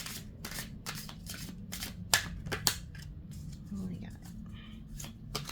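A deck of message cards is shuffled during a twin flame tarot-style reading, giving repeated riffling and flicking bursts with a couple of sharper snaps, heard close up while a voice speaks briefly.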